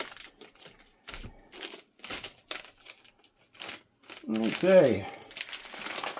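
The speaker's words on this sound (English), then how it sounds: "Let's see if I can get the plastic bag off." A plastic bag crinkles and rustles as it is pulled off a new air conditioner, in short bursts with a louder crumpling near the end, and a person speaks briefly.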